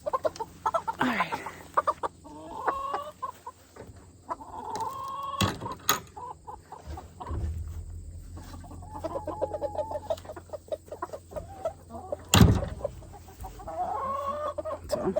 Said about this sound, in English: Those two little roosters, those chicks, you haven't been watching, here they are.